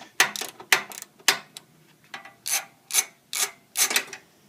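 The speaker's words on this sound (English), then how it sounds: "using a 12mm socket, I'm going to loosen the axle pinch bolt here" A ratchet with a 12mm socket loosens the rear axle pinch bolt on a Honda Shadow VT1100 motorcycle, giving about nine loud, close bursts of rapid clicking in a regular back-and-forth rhythm, no speech.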